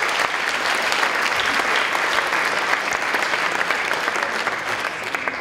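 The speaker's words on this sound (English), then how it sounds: "but a big applause" Dense, steady audience applause at an award ceremony, loud and sustained with many hands clapping at once, holding evenly throughout without a break.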